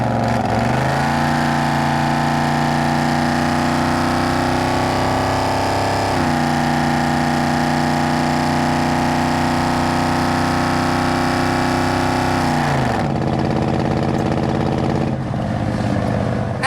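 A 1971 Chevrolet C10 CST long bed pickup with a built 350 and 700R4 automatic overdrive accelerates hard on a test drive, its V8 drone rising through the gears with shifts and steady engine tone, then easing off near the end.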